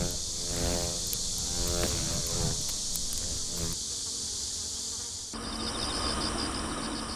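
A giant hornet buzzing around oozing tree sap in a bamboo forest, joined by other insects, a dense continuous drone and whine close by with no voices.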